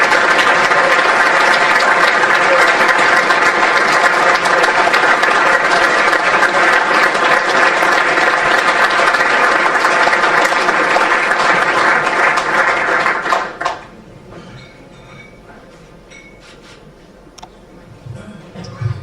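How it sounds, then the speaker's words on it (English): A large audience at an end-of-season awards ceremony applauds a winner, loud, dense and sustained clapping for about thirteen seconds before stopping abruptly, followed by quiet room noise. "a very warm round of applause for your winner"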